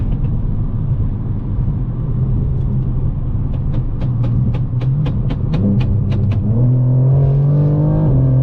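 Interior of a 2022 BMW M4 Competition pulling hard on a highway, its engine drone steady and loud with a rising tone toward the end, while a series of sharp crackles pops from the exhaust midway through the run.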